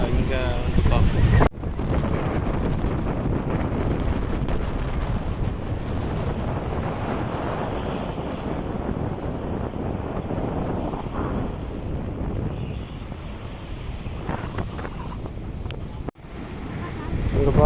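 Wind and sea waves at a beach in Kanyakumari, a steady loud roar of surf and gusting wind buffeting the microphone throughout, continuous and close.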